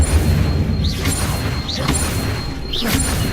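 Incendio fire spell cast in Hogwarts Legacy, three whooshing magical bursts with rising swishes at a steady pace, loud against a busy game soundtrack.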